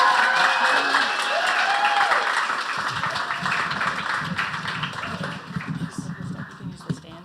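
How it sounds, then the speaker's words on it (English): A poetry slam audience cheers and applauds loudly as a performer is welcomed to the stage, the applause thinning into scattered claps and tapping toward the end, with a voice briefly audible over the crowd at the start. "There's a nice big cheer to start us off."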